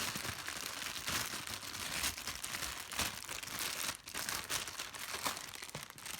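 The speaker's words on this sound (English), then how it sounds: "Let's get this out of the bag." Plastic bag wrapping a HEPA air purifier filter crinkles and rustles continuously at close range as it is pulled open, with dense crackling bursts and no talk.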